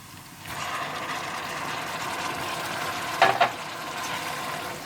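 Chopped tomatoes hit ginger and garlic frying in oil, setting off a loud, sustained sizzle that holds steady, with a couple of brief clinks of a utensil near the end.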